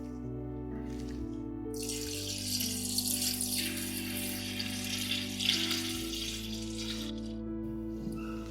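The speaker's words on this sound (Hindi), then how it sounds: "अब इसमें गोमूत्र को डालेंगे।" Fresh cow urine is poured into a mixture of 10 kilograms of cow dung for making jeevamrit, a steady splashing liquid pour that runs close and continuous for several seconds over a low background hum, with no talking.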